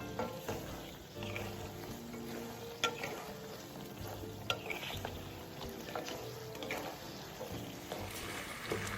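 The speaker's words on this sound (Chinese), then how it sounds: "最后再加入2大匙料酒，开大火收汁，让汤汁变少且粘稠。" Braised pig trotters bubble and sizzle in a pot over high heat as the sauce reduces, a steady close frying hiss broken by occasional stirring scrapes and clinks, with no voices.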